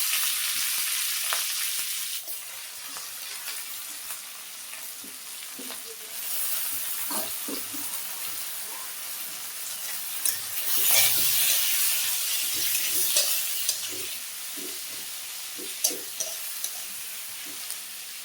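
Onion, tomato and green chili fry with tengra fish in a pan, making a long, steady, close hiss of sizzling oil with scattered clinks and scrapes as the mix is stirred.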